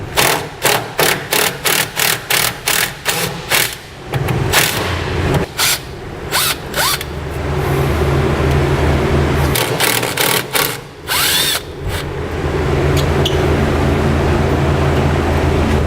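Impact or power tool with a 10mm socket removing bolts from a brake bracket on a 2008 Chevrolet Silverado frame: rapid rattling bursts, then a longer steady whir, loud and close.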